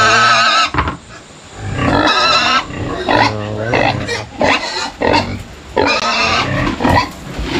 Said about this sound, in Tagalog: pakain tayo ng baboy